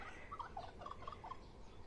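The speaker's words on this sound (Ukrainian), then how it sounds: "Пішов той індик." A quick burst of faint gobbling from a turkey in a Ukrainian village, a rapid warbling series heard at a distance over quiet background hiss.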